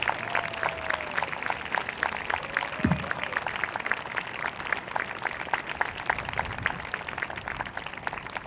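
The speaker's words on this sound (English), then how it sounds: "Give him a round of applause, please." A concert audience at a spring school band performance claps steadily for an award recipient, a dense, even patter of many hands that holds throughout without breaking.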